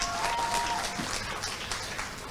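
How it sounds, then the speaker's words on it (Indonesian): An audience at a hospital opening ceremony gives a sustained round of applause, steady dense clapping from a large crowd filling the room. "Boleh kasih tepuk tangan yang paling meriah untuk Bapak dan Ibu semuanya?"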